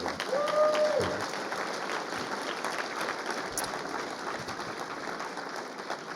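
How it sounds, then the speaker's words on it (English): Applause from a breakfast event audience rises after a short voice at the start, settling into a steady, moderately loud patter of many hands that continues throughout. "Another round of applause for TRA."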